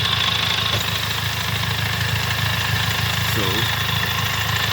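A car engine idles steadily during a test of a DSG7 gearbox run without its mechatronics unit, a continuous low rumble with a faint knocking pulse, while someone talks over it.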